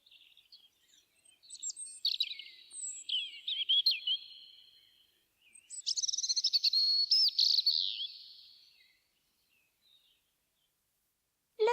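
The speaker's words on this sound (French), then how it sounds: "le rouge-gorge," Thin, high warbling phrases from a European robin come in two bursts of twittering trills, delicate and close, followed by quiet, with no speech heard.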